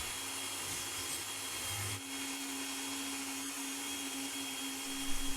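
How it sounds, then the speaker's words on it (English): Steady whirring and grinding of a powered sharpening system honing a hand-forged slick and chisel made from an old leaf spring, a constant close hum with a faint tonal whine throughout and no talking. "All right, now to give them a final sharpen."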